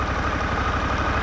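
A Harley-Davidson Pan America ST motorcycle engine idles nearby with a steady, even low-pitched throb and no other sounds over it.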